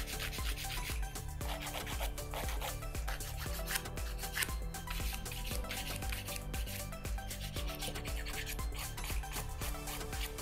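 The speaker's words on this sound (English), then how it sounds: "now I'm just gonna take a file," A hand file refines and shapes acrylic nails during a dried-leaf fall nail design, making quiet, close, rapid back-and-forth rasping strokes in a steady rhythm with no talk.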